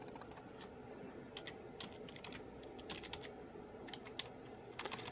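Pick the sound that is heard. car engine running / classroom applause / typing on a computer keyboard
typing on a computer keyboard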